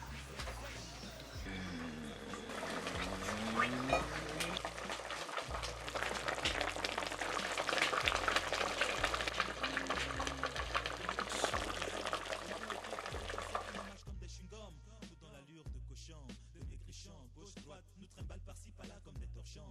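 Oil heats and fries in a pan while tortoise kpanso is cooked in a village kitchen, giving a steady, close sizzle that runs most of the way through beneath a low, rhythmic musical bed.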